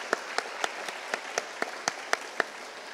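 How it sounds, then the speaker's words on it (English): Faint, sparse clapping from an audience thanking panelists at a sustainability breakfast: a thin run of evenly spaced single claps, distant and quiet, with no talk over it. "another round of applause?"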